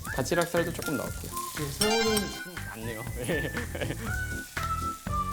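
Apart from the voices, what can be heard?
shrimp frying in a buttered pan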